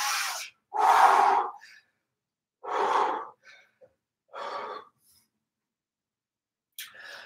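Deep breaths drawn in and blown out during an exercise in a fitness class, with about five distinct breathy bursts separated by silent pauses, heard close and clear.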